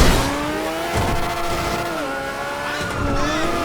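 A car in GTA V races at full speed through a police chase, its engine whining and rising in pitch with brief tire noise, loud and continuous.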